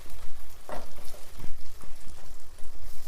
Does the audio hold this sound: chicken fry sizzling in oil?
yes